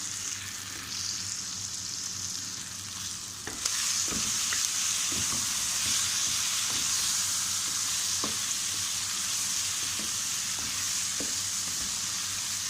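Meat being stirred together with ground spices such as cardamom and dried coriander in a hot pan, a steady close sizzle with scattered scraping clicks of the spoon throughout, no voices.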